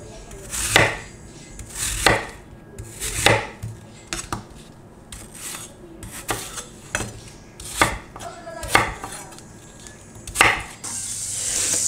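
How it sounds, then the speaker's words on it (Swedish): Steady knife chopping of onion and apple on a cutting board, about a dozen sharp, irregular strokes close up, with no talking. "Löken, det är bara att dela lite. Sen tar vi äpplet."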